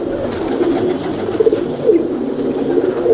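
Ferozpuri pigeons coo in a steady, rolling murmur, several birds overlapping in soft repeated throaty calls at close range with no voices over them.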